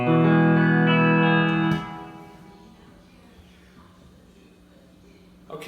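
A 1973 Emmons pedal steel guitar played through a hand-built Lux Reverb amp and a 12-inch speaker rings out a sustained, harmonically rich chord, then decays with a long reverberant tail before a faint pick attack.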